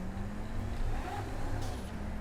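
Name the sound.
9F sports car engine in GTA 5 video game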